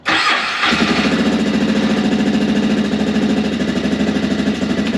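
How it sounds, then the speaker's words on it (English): A 450 ATV engine fires up after a CVTECH clutch install, catching abruptly and settling into a steady, loud, close idle with a rapid even chug. "Let's start it up again, see what happens."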